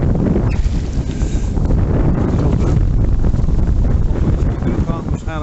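Wind roars across the microphone while sailing a sailboat in rain at about force 3, a continuous loud gusty rumble with water and hull sounds mixed in throughout.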